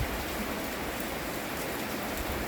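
Steady rain falls during rice-harvest season, a dense continuous hiss of drops on surfaces that holds even and close for the whole stretch, with no voices over it.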